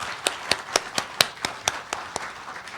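Audience at a hospital director's inauguration ceremony at Wonkwang University Hospital claps in a steady, evenly spaced rhythm of sharp, fairly close hand claps.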